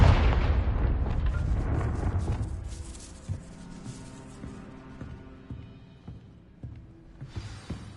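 The Confringo blasting spell detonates in a Harry Potter video game with a loud, deep boom at the start that decays into a rumbling tail and scattered debris clatter, followed by smaller pops.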